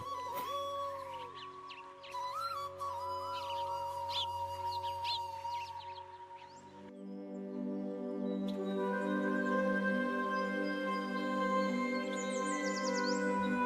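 Cartoon forest scene with a sweet-voiced songbird trilling and chirping over soft background music, the melody shifting midway into a brighter tune, with bird calls rising above it at moderate loudness.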